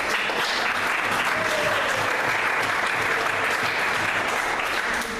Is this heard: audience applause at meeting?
yes